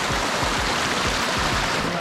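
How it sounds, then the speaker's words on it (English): A waterfall on a trail near the Dead Sea rushes in a loud, steady, close roar of falling water with no break. "There's the waterfall"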